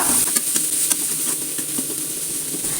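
Chopped tomatoes sautéing in a pan, with close, steady sizzling and frying and light scraping and tapping of a spoon stirring them.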